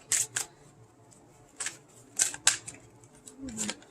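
Brief crisp riffles and snaps of a tarot card deck being shuffled, a few short bursts with quiet pauses between them.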